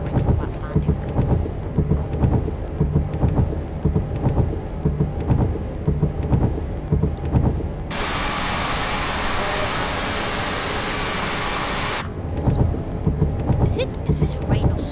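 Heavy rain and thunder in Microsoft Flight Simulator during an Airbus A220 flight from Riga to Tallinn: a dense, loud hiss of downpour swells in the middle, set against a rhythmic pulsing background before and after.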